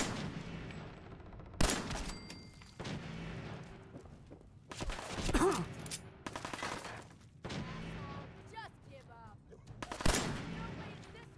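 Gunfire in Fallout 4, several loud bursts and bangs spread across the stretch, separated by quieter game sound and someone talking excitedly.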